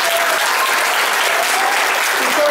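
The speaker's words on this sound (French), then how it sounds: "On peut l'applaudir, je pense." An audience at a live show breaks into dense, sustained applause, a steady wash of many hands clapping together at even loudness throughout.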